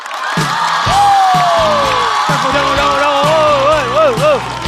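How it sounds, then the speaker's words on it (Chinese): A live stand-up comedy crowd cheers loudly and whoops as the last comedian of the night is welcomed on stage, with a broad, sustained roar of voices and a few rising shouts over it. "掌声欢迎山河"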